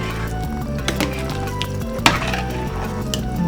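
Stewed chicken and rice for Puerto Rican arroz con pollo guisado sizzles in a pot as a spoon stirs it, with steady close frying hiss, soft scraping and a sharp clink of utensil against the pot.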